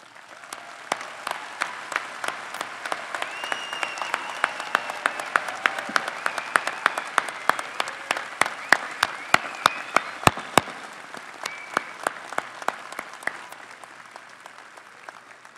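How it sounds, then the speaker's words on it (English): Sustained applause from a large commencement audience at Marquette University honors the Doctor of Philosophy candidates, many hands clapping in a continuous crackling wash with sharp individual claps popping out, gradually thinning toward the end. "Will the Doctor of Philosophy candidates please rise for a final round of applause?"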